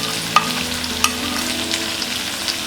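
Onion frying together with okra in a pan gives a constant, loud sizzle up close, broken by a couple of sharp utensil clicks as it is stirred.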